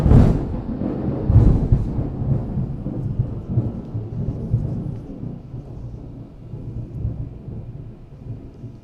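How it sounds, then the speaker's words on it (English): A loud, deep thunderclap cracks early and rolls on as a long low rumble, fading slowly over several seconds. "That was a very loud thunderclap that just happened."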